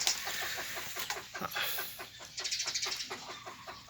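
A decoy bird calls in quick repeated bursts, clucking and chattering notes from close by, with a steady high hiss in the background.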